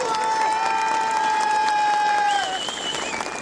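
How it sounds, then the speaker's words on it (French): Audience of trail runners applauding in tribute to those who have died, a sustained crowd clapping mixed with a high whistling tone and some cheering, loud and continuous. "Vous pouvez tous applaudir."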